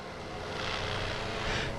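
A Flywing FW450 Airwolf RC helicopter flies overhead, a steady whirring rotor and motor drone that swells slightly louder midway, with no talking.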